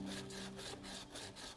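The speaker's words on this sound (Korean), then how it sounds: "이 결 따라서 이런 방법으로 사포질을 해주시면 되고요" Sandpaper rubs along the grain of a hand-carved wooden piece in a woodcarving class, giving a rhythmic back-and-forth scratching with several strokes close by and no talking.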